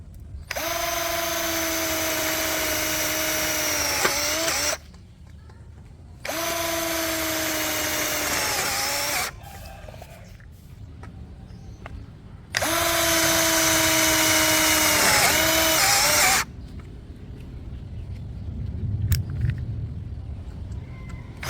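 A cordless impact drill, set to speed 2 in normal drill mode, drills into metal in three long bursts, each a few seconds long, with short pauses and faint rustling between them. Loud and close.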